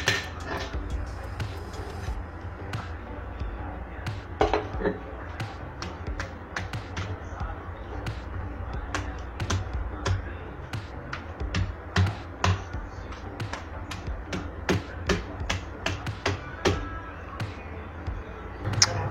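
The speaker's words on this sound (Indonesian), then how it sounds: "Nanti digeprek-geprek sedikit biar nyatu." Fried chicken coated in basil chili sambal being smashed and pounded, a long run of sharp irregular thuds and taps, near and moderately loud, with quiet kitchen background.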